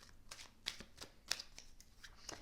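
Tarot cards are shuffled for a final draw, giving quiet, close riffling and flicking with a few crisp snaps of the deck.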